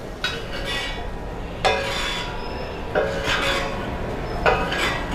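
A steel pot clanks and scrapes against a tawa in a kitchen, with four distinct metallic knocks spaced about a second apart, each followed by ringing scraping, close and fairly loud without talk.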